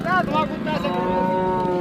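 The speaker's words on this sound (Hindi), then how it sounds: "ये गोश्त वाली भैंसें जा रही हैं" Buffaloes being led through a cattle market to be sold for meat low and moo repeatedly, close by, over a steady background hum of the market.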